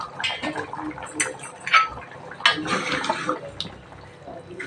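Mutton kulambu curry simmering in a pot on the stove after about 10 to 15 minutes of boiling, giving soft bubbling and watery splashes with brief louder bursts, with no voices over it.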